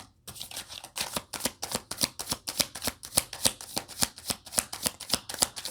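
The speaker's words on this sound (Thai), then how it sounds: "ต่อมานะคะเราจะขอขยายไพ่ให้กับชาวราศีกุมนะ" Tarot cards are shuffled close by in a quick, even rhythm of crisp riffling snaps that repeat steadily throughout, with no talking.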